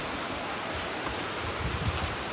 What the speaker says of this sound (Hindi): पहले से भी जो है ना बारिश अभी तेज़ हो गई है